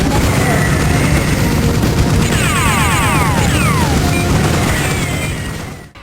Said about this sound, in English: the sound effects in the game from the guns and explosions are very dominant